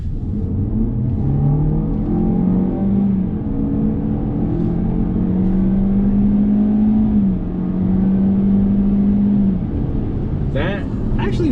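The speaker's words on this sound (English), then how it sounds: "Now that's all engine noise, obviously" A Lexus UX 200 crossover engine accelerates in sport mode with rising, droning revs that climb, drop briefly and climb again. Loud and close, with a voice speaking near the end.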